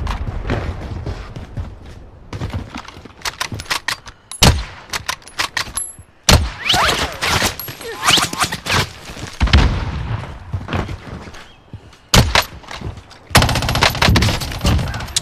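FFAR rifle gunfire in Call of Duty Warzone comes in rapid automatic bursts mixed with booms and explosions, loud and dense throughout, with brief quieter gaps between volleys.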